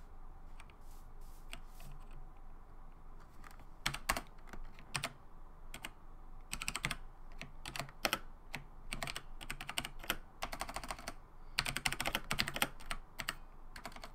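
Someone types on a new computer keyboard, with bursts of rapid, close key clicks separated by short pauses, over a low steady background hum.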